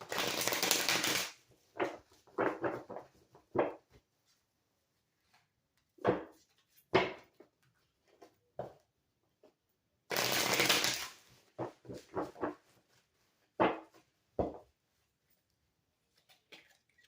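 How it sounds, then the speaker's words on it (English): A deck of cards being shuffled in a quiet room during a tarot-style reading: two longer riffling bursts, followed by scattered taps and slaps of cards being squared and laid down, with no talk. "Because I kept shuffling it and it kept coming out."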